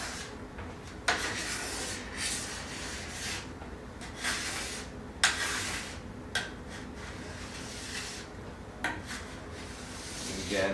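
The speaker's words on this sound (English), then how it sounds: "you're just going to take the scraper, run it down over the base" A scraper drawn along a ski base lifts off a first coat of wax in a string of raspy strokes, each with a sharp start, close and fairly quiet, with no talking.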